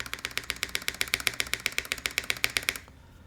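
Fast, steady typing on a Milan TKL mechanical keyboard, with crisp, clacky keystrokes in an even rhythm close to the mic, then a sudden stop.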